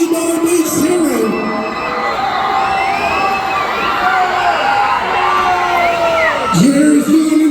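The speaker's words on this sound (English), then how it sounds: "Come on, you better be cheering." A crowd at a monster truck show cheers and shouts loudly and continuously, with high children's yells and whoops rising over the roar of voices.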